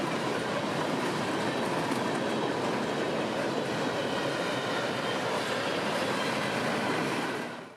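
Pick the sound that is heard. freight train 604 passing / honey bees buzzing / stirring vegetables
freight train 604 passing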